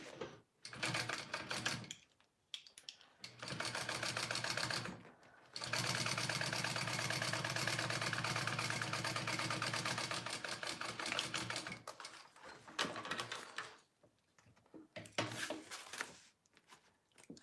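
A sewing machine top stitching a crossbody bag runs in bursts, each a fast, even mechanical whir. The longest run lasts about six seconds, and quiet pauses separate the bursts.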